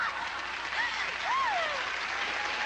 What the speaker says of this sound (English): for all you folks that don't ever get the applause that you deserve, well, here's one for you